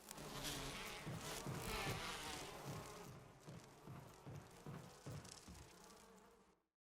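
Bees buzzing in Resident Evil 1 HD Remaster, a dense insect drone heard alone that thins into pulsing buzzes before cutting to silence.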